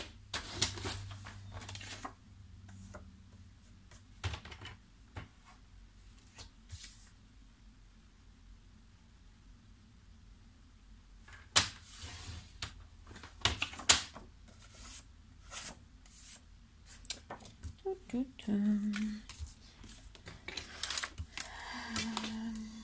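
A craft knife cutting paper for a scrapbook album: sparse, quiet scraping and clicking strokes come in short bursts, separated by pauses of near silence.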